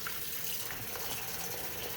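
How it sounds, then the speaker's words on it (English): Cold water runs steadily from a kitchen tap over Chinese cabbage being rinsed of sand, a constant close splashing rush with no pauses and no speech. "And I use cold water because I don't want to pre-cook these."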